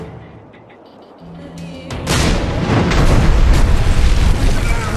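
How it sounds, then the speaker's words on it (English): Cannon firing in the Dungeon Siege 3 video game, a quiet lead-in followed by a heavy, loud booming blast that rolls on as a sustained rumble. "We're going to fire the cannon!"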